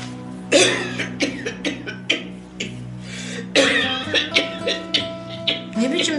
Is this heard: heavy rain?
no